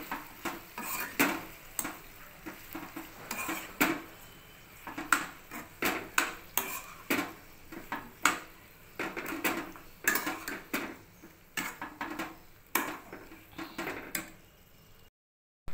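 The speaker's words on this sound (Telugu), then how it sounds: "వేసి బాగా మిక్స్ చేసుకోండి" Brinjal and tomato chutney mixture being stirred in a pan with salt, turmeric and asafoetida, giving irregular scraping and clinking of a spoon against metal in close bursts, with no talking.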